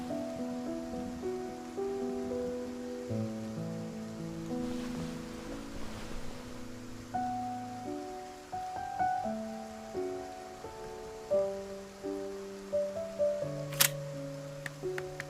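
Freezing rain in the video game Wildlight Chronicles makes a faint, steady hiss beneath soft, gently shifting melodic music that stays in the foreground throughout.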